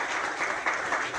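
Audience at a Christian community meeting in a BJP state office bursts into loud, dense applause, a continuous close wash of clapping with no speech.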